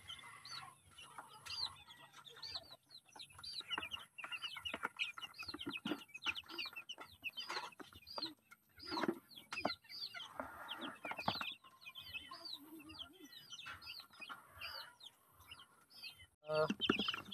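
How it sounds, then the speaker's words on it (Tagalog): Native chickens cluck and chirp inside a coop lined with cardboard, a busy, close flock with overlapping calls and short bursts that rise and fall without pause. "Gutom na rin yung mga native chicken natin, no?"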